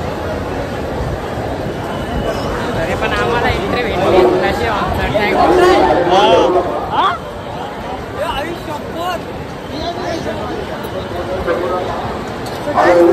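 Thick crowd chatter fills the queue for Lalbaugcha Raja Ganpati darshan in Mumbai, a continuous babble of many voices close around, with a nearby person talking over it.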